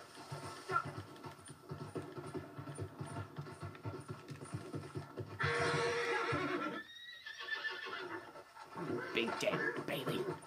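A horse neighs and whinnies in the video game Red Dead Redemption 2, amid game sounds and a person talking over it.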